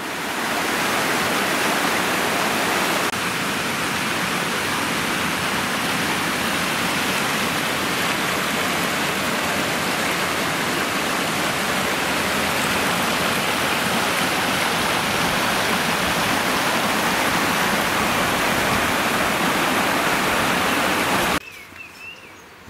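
A river flows beneath the bridge at Newmill, between Brynmenyn and Blackmill, as a dense, unbroken rush of water heard close and loud, cutting off abruptly near the end.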